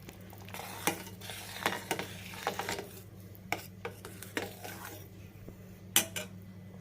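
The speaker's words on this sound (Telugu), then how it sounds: "పొడి బాగా కలుపుకోవాలి" Spice powder being stirred into a mango stew in a pot: a spoon scrapes and knocks against the vessel in irregular close strokes over a steady low stove hum, with a few sharper clinks.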